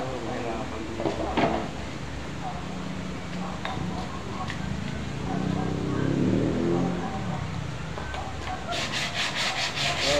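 Repeated rough scraping of sandpaper rubbing back and forth, close by, with brief voices and a few knocks in the background.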